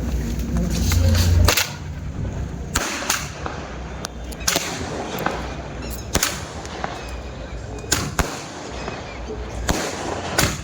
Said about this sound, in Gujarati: આ બાકા તેમને ફટાકડા ફોડ્યા છે